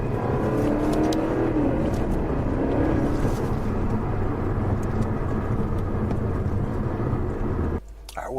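Engine and exhaust drone inside a car cabin with all three resonators removed, a steady mellow low rumble at idle and light cruise, moderately loud and continuous, with a brief dip near the end.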